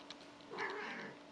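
A house cat gives one short, soft vocalization, a faint muffled meow or grumble that rises briefly midway and then fades, in a quiet room.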